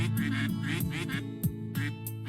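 Ducks in the game Pre-Odyssey quack in a quick, close run of several calls, each one loud and clear with no talk over them.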